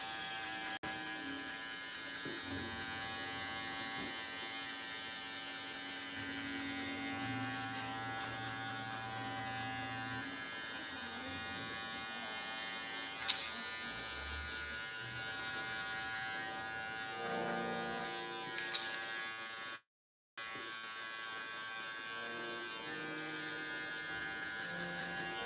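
Hair clippers with the guard closed buzz steadily and close up while cutting a double-zero fade on straight hair, a continuous electric hum with small changes in pitch and a brief cutout near the end.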